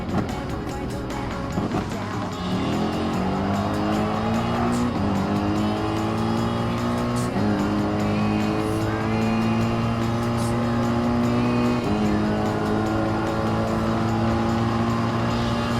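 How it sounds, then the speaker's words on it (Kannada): A Mercedes-Benz race car in a PlayStation racing game roars continuously, its engine note rising and shifting through gears, with brief squeals, loud and close throughout. "ಮರ್ಸಿಡೀಸ್ ಬೆಂಜ್ ತುಂಬ ಒಳ್ಳೆ ಕಾರು ರೇಸ್ ಮಾಡೋಕ್ಕೆ."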